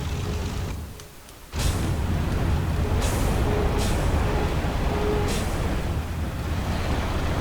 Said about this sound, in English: Engage some of the brakes.